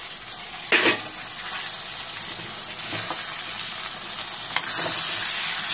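Tomatoes go into a frying masala curry, bringing sharp bursts of sizzle and spoon scrapes over a steady close crackle, with a louder hiss after each addition and no talking.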